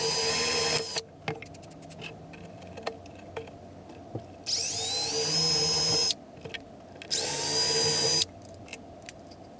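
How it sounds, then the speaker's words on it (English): Power drill boring a small pilot hole through two wooden boards for a screw shaft, with two sustained high whining bursts of drilling separated by quiet gaps and clicks, close and loud, with no talking. "then I'll drill the other pilot hole that's small enough for just the shaft"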